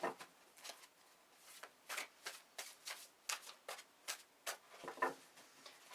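A deck of tarot cards is shuffled quietly by hand, with light, crisp flutters and taps repeating in a loose rhythm, soft and near, with no talking.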